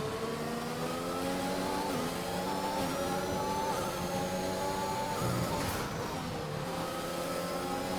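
Formula 1 car in F1 2021 racing game at the Bahrain Grand Prix, engine droning steadily with shifting pitch as it corners and loses the rear, continuous and loud with no talking.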